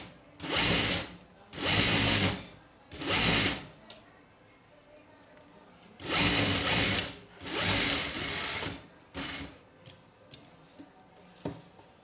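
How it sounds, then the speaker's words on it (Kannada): A sewing machine runs stitches along a blouse edge in several loud, close bursts of whirring, each a second or two long. Quiet gaps and a few softer clicks fall between them. "ಇದ್ರ ಮ್ಯಾಲೊಂದು ಎಜ್ಜಿಗೆ ಸ್ಟಿಚ್ ಹಾಕೋನು"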